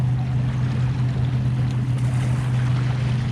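An ARRMA Granite RC truck wading slowly through deep lake water, a steady low motor drone over continuous splashing and churning water that stays even and close for the whole stretch.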